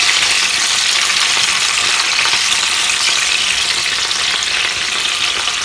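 Whole brinjals fry in oil in a very hot pan, making a loud, steady, dense sizzle and crackle that runs unbroken and close throughout, with no voices.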